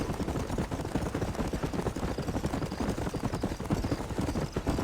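Horse hooves gallop in a steady, rapid clip-clop rhythm in the video game Red Dead Redemption, loud and continuous with a low rumbling bed beneath.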